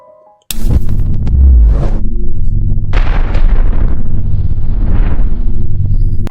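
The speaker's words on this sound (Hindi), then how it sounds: "ये जहाज़ मिस्टीरियस तरीके से अंदर से ब्लास्ट हो गया।" A loud, sustained explosion of a ship blasting apart from the inside, a sudden heavy boom followed by several seconds of continuous deep rumbling and crackling debris, with no talk.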